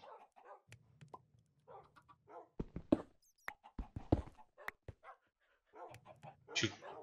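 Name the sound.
dogs barking in video game Survival War 3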